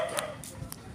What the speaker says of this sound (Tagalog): puro mga aso lang makikita mo dito at ingay ng aso